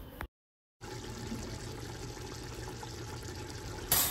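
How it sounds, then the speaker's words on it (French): Water runs faintly and steadily while something is rinsed clean of suds in a kitchen, forming a soft, continuous wash of noise with a brief gap near the start. No one speaks. "Je vais rincer 3 fois pour s'assurer que c'est bien propre, il n'y a plus de mousse."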